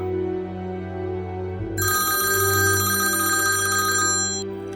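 A telephone starts ringing partway through, a bright repeating electronic ring over a steady low background hum, fairly loud and alone with no talk.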